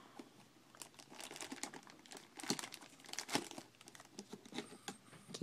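Clear plastic bag packaging crinkles around a Hot Toys Metal Gear Solid 3 Big Boss Sneaking Suit figure, in close, quiet bursts of crackling and rustling that come irregularly as the wrap is handled, with no speech.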